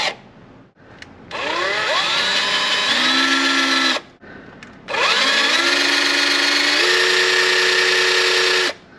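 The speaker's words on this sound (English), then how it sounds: "Cordless Black & Decker is not cutting it, so I had to bring out my corded DeWalt here." A loud corded DeWalt electric drill runs in two long bursts with a short pause between, its motor pitch shifting as it bites into metal.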